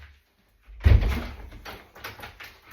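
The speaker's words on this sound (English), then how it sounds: "Let me shut the back door." A back door swung shut indoors, one dull thump followed by a short rattle and settling sounds at close range, with no voices over it.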